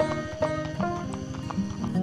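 A horse being readied before a training ride, with a steady run of close hoof clops and a brief whinny-like call, alone with no talk.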